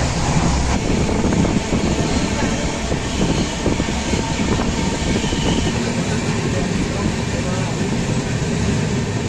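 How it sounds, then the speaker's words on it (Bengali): The Jammu Tawi Express rolls into Bardhaman station with a loud, steady rumble and rushing noise, while someone talks over it. "আমাদের ট্রেন 7 মিনিট লেটের সাথে এসে পৌঁছালো বর্ধমান স্টেশনে"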